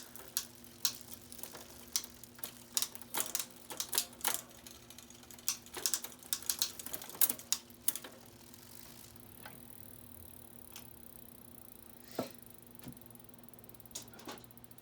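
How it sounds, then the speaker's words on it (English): Gears being shifted on a cheap Trek hybrid bike right after its chain is lubricated, giving a run of close, sharp mechanical clicks and ticks for about eight seconds, then a quieter stretch with a few isolated clicks. "what you can do is you can just shift to the gears now. Get the lubricant on every gear."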